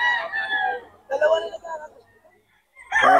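Young roosters (stags) at a farm in Bocaue, Bulacan crow close and loud in three bursts, with a short pause before the last crow.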